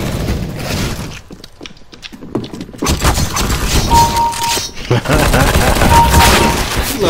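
Rapid bursts of gunfire from a shooting video game crackle in quick volleys with sharp impacts, loud and close, while a player talks over parts of the action.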